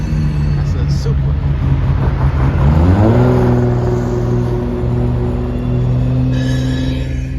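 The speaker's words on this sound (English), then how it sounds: "Toyota Supra right there" A Toyota Supra, a classic car, rumbles past nearby with a steady engine drone whose pitch climbs as it accelerates, continuous and fairly loud throughout.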